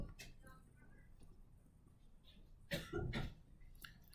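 A student coughs a couple of times in a quiet high school algebra classroom, giving short, faint bursts against a soft background.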